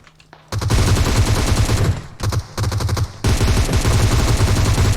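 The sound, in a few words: gunfire in the video game PUBG Mobile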